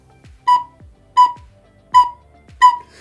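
Four evenly spaced, short whistly notes on a recorder, each a clean B held for one beat with a soft tongued attack and brief gaps between, played alone and fairly close.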